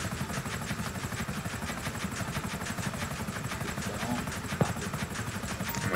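Rapid rhythmic chopping of helicopter rotor blades under a droning engine in the video game GTA, loud and continuous, with a brief sharp click near the end.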